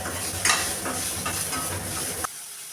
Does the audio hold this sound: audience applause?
no